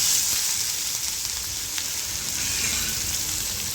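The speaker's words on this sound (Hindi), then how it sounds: "इन सारी सब्जियों को हमें ज़्यादा नहीं पकाना, बस सौटे करना है।" Mixed vegetables with garlic, ginger and green chilli sautéing in a pan, giving a steady close hissing sizzle with soft stirring and no voices.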